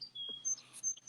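Small birds chirping outdoors in the background: faint, thin, high chirps and short tweets scattered over a quiet ambience.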